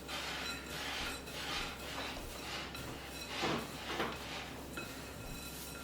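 A spoon works a granola bark mixture around a bowl, giving steady close scraping and clinking, with a few louder strokes along the way.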